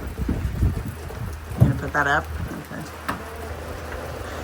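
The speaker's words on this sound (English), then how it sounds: "It'll be like a gentle rain and then all of a sudden it just dumps." Rain pours down outdoors at a chicken-coop building site in heavy gusting waves, a dense hiss under people talking nearby, with a brief tonal squeak midway.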